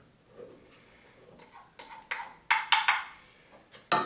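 Flour and bread ingredients dropped into a pan for sourdough, heard as a series of close metallic clinks and taps that grow louder and closer together toward the end, with no talking.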